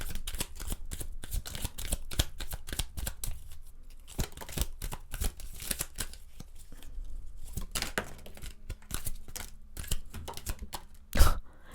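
Tarot-style cards shuffled for a reading, a close, rapid patter of riffling and flicking card edges in irregular bursts with short pauses, ending in one sharper slap.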